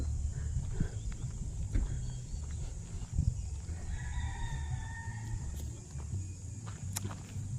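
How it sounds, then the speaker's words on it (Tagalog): A rooster crows once at a distance among tethered chickens, a drawn-out call over low rumbling ambience, scattered footsteps and occasional faint clucks. "May mga alaga silang manok na tinali."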